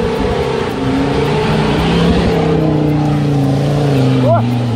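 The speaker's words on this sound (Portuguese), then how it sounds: "Jonathan, puxa a bicha no acelerador aí" A Ford Ranger 3.2 engine with a straight exhaust rumbles loudly up close, held at a steady throaty rev with a slowly shifting drone.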